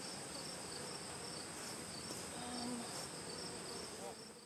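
Honey bees hum around an open backyard hive in late summer in Swanzey, New Hampshire, a faint, continuous buzzing swarm with high insect tones over steady outdoor noise.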